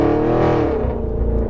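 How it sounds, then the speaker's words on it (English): An Audi RS6 with an Armytrix Stage 2 valved exhaust, tuned to 700 bhp, revs in a loud, close burst whose pitch rises and then falls back. "it is a valved exhaust, so maybe the valves open at a certain point in the rev range"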